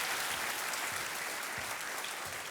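The studio audience of the quiz show Kaun Banega Crorepati, Season 7, applauds in a continuous, even wash of clapping, fairly soft and distant.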